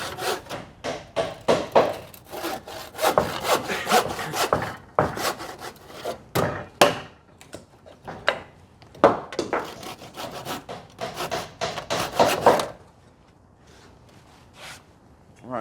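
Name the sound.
handsaw sawing wood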